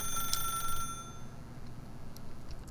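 Telephone ringing in The Stanley Parable game, a brief bright electronic ring burst in the first second that fades away over a low background hum.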